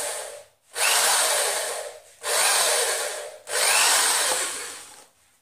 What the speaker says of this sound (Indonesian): Setelah itu kita bor.